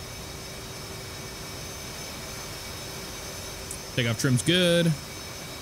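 An F/A-18C jet engine in the DCS flight simulator hums with a steady, close whine and faint high tones. Someone speaks briefly over it near the end.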